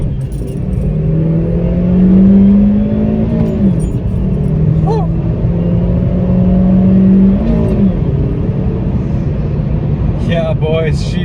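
A Chevy Sonic RS with a tuned 1.4 turbo engine accelerating at full throttle, a loud droning engine note that climbs steadily in pitch, drops at a gear change, then climbs again through a second pull.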